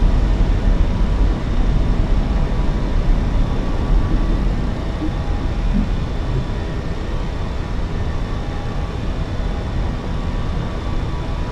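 Airbus A320 airliner climbing after takeoff in a flight simulator game, a dense, steady broadband engine roar with a heavy low rumble, loud and unbroken throughout.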